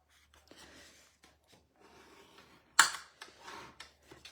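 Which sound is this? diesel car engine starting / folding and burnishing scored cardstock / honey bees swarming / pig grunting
folding and burnishing scored cardstock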